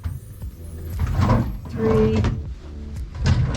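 Drawers on a cruise ship cabin vanity slide open and shut with several quick close rumbling glides and soft knocks, while a person talks briefly over them.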